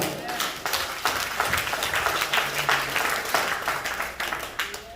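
Congregation clapping during a French-language sermon on consecration by a pastor, a steady dense patter of many hands that runs throughout with voices mixed in.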